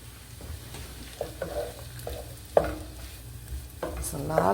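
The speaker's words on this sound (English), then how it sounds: "Some of the onions I'm going to add now. You see those chopped onions?" Chopped onions sizzling in a frying pan while being stirred, a quiet steady fry under intermittent scraping clicks of the utensil against the pan, close and moderately soft.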